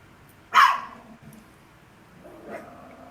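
A dog gives one sharp, fairly close bark, then a fainter, softer bark follows about two seconds later against a quiet indoor background.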